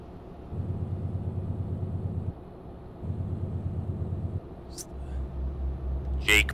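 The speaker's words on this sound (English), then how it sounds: "Jake brake, as we call it here in the United States." Truck jake brake in Euro Truck Simulator 2 on roads in Italy: two bursts of low, stuttering engine rumble a second apart, then a steady drone, while someone talks.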